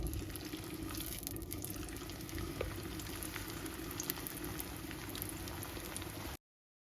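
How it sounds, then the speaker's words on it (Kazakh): Food frying in oil in a pan, cooked on both sides, giving off a soft, steady sizzle and bubbling with no talk, until it cuts off abruptly near the end. "екі жағын қуырып аламыз"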